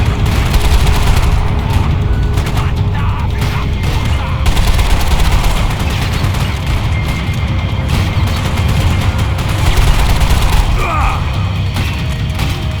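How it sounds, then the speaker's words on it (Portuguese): Heavy gunfire in the Max Payne 3 video game rattles on continuously, a dense, loud barrage of shots and booms with mechanical clatter throughout and no pauses. "Ó, tá atirando pra caramba, hein, cara."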